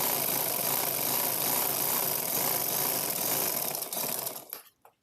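A sewing machine runs steadily, stitching the last seam of a boutique-style kameez, a continuous close mechanical whir that slows and stops near the end.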